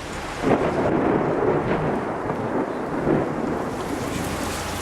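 A thunderstorm heard while travelling by road in Mongolia, with steady rain and rumbling thunder rolling on and off throughout, loud and close.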